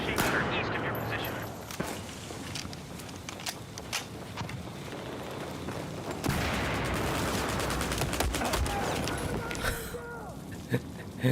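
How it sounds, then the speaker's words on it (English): Rapid gunfire bursts from a war video game battle, steady and dense throughout, with sharp transients and a louder stretch near the middle. "I have eyes on a hostile machine gunner east of your position."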